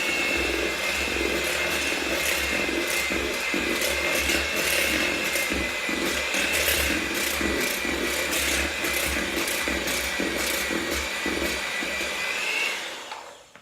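An electric hand mixer whirs steadily through brownie batter as the second half of the flour goes in, a loud constant motor drone with rhythmic beater clatter against the bowl, fading out at the end.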